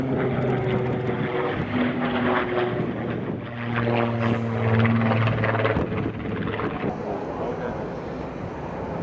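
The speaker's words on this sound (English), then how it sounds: "The Supermarine Super Spitfire." A Supermarine Spitfire flies at a WWII airshow, its piston engine droning at moderate distance with rising and falling pitch as it passes, while a voice talks over it.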